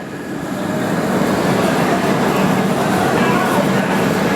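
Ajanta Express train halted at Nagarsol station, with a steady, loud rumble of idling rail equipment and platform bustle throughout, and voices faintly mixed into the background noise.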